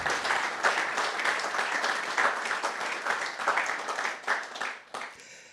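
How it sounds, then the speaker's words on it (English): Warm audience applause at a live conference, dense, steady clapping that swells slightly and then tapers off toward the end. "ask for a warm round of applause for his exceptional contribution today"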